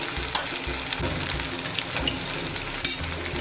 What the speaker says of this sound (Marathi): मसाले आपल्याला स्लो गॅसवरती भाजून घ्यायचे आहे